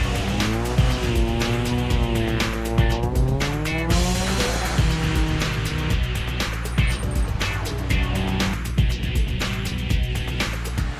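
A Renault Clio Cup race car's engine roars continuously on a track with rising and falling revs as it shifts gears, tires squealing at moments, loud and close throughout.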